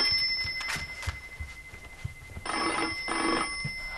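A telephone rings in an Egyptian television drama, two bursts of electronic ringing, the second louder, over a quiet room with no talk.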